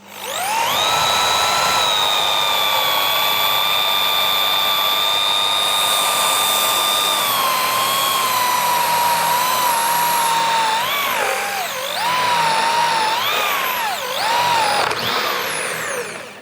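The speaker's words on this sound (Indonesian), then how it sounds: "Sekarang kita coba naik ke mata bor kipas yang ukurannya 22 ya teman-teman ya." Dongcheng DJZ10-10 electric drill fitted with a 22 mm spade bit, whining loudly and steadily for about ten seconds, then the pitch dips and wavers as the bit bites and bogs under load before recovering.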